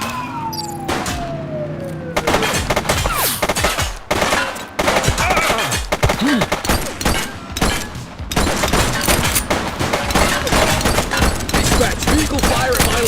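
Gunfire in the police game The Precinct: long, loud rapid bursts of shots crackle almost without pause, broken by short gaps, with a falling siren-like tone and a few clipped voices at the start.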